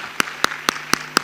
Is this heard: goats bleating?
no